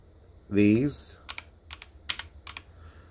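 Keystrokes on a Keychron K8 tenkeyless mechanical keyboard clack in a short irregular run of close, crisp clicks, following a brief burst of speech.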